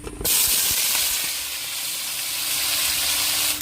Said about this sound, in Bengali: আমি তেল দিয়ে দিচ্ছি আলু ভাজার জন্য